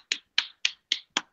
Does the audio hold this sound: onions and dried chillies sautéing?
no